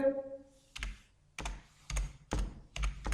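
Keys tapped on a computer keyboard while entering a formula in MS Word 2007, a few separate clicks in slow irregular rhythm, close and crisp, with a brief voice at the start.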